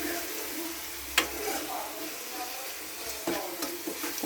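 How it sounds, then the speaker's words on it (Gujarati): Dahi tikhari cooking in a pan as garlic chutney is stirred in, a steady soft sizzle with occasional scrapes and taps of a spoon against the pan. "જ્યાં સુધી લસણવાળી ચટણી છે એનું કાચા પણ છૂટું ન પડે ત્યાં સુધી આપણે મિક્સ કરશું."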